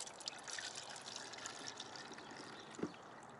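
Water runs into gallon containers during a car wash session, a soft, steady trickling fill that stays faint and even, with one brief louder splash near the end.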